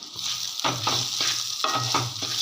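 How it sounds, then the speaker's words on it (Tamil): Mint leaves frying in hot oil together with chillies and tamarind, a steady close sizzle broken by repeated stirring scrapes in a quick irregular rhythm. "இந்த எண்ணெயில் நல்லா புதினா வதங்கி வரட்டும்"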